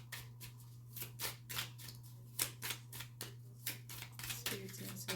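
Tarot cards are shuffled by hand in a quick, rhythmic series of crisp riffling bursts, close and fairly quiet over a low steady hum.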